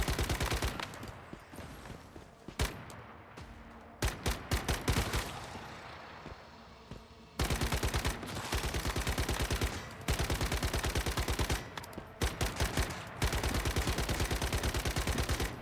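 Rapid automatic gunfire in a video game mows down low-level monsters, long loud bursts of shots broken by short pauses, repeating over about fifteen seconds.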